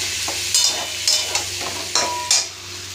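Potatoes and green peas frying in a pan for a vegetarian potato curry, with a low sizzle under a handful of sharp spoon scrapes and knocks against the pan at an uneven pace, close and clear.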